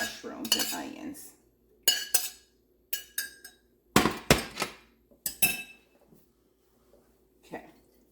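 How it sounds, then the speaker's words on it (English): Mushrooms and onions being tipped back into a pan for green bean casserole, heard as a series of sharp clinks and clatters of a utensil against metal in irregular bursts with short pauses between. "we're going to add back in our mushrooms and onions."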